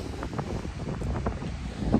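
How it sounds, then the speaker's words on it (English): Steady, blustery wind at a beach buffeting the microphone, a continuous low rumble with gusty surges throughout. "It's super windy out here"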